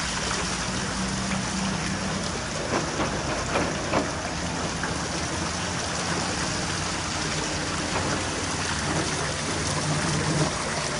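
Rain pours outdoors at a live show setup with dark clouds overhead, making a dense, even wash of hiss and patter that runs steadily throughout without voices.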